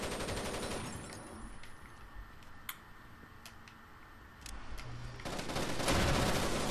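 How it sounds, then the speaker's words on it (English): Rapid bursts of gunfire, sharp cracks and thrown explosives ring out over a noisy, busy soundscape in the video game Rainbow Six Vegas 2, growing louder and denser toward the end. "Oh, look out, they're throwing explosions at us."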